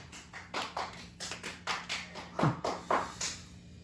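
A group at a church winter camp gives a rhythmic 'success clap' after reciting a Bible verse, with sharp hand claps in quick patterned bursts, close and clear, and no talking.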